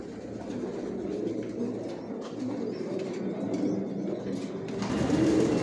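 Racing pigeons kept in a loft coo softly and steadily at close range, with low rounded calls under a busy, rustling background that grows louder near the end.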